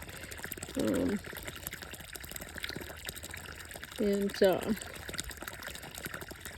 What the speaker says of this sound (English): So I'm filling this hole up really good full of water.